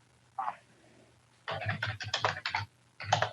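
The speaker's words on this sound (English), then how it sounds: "Whoever is typing, could they please stop or put themselves on mute?" Someone types on a computer keyboard during an online meeting, heard as a few brief bursts of clicking keys at moderate distance, with short gaps between them.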